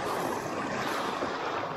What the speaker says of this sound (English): There's only waves around me.